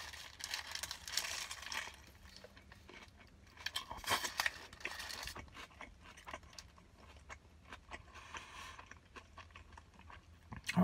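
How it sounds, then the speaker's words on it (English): Crunchy chewing of a Jack in the Box breakfast item with lettuce and onion, close mouth sounds in irregular bursts of crisp crunches with quiet pauses between. "obviously the crunch is coming from like the vegetables, the lettuce and the onion"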